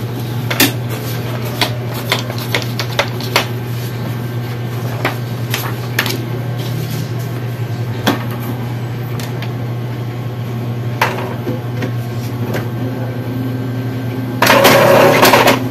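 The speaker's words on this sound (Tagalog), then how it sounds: "I-scan na lang natin ito." A steady mechanical hum runs throughout, punctuated by scattered clicks and clunks, then a louder whirring burst near the end, as an Epson printer scans a page.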